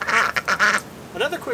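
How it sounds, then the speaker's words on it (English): Ducks quack from a backyard duck enclosure, a run of harsh nasal calls close by, then a short pause and a couple more quacks at the end. A human voice is mixed in with the calls. "da-da-da, and the ducks come out."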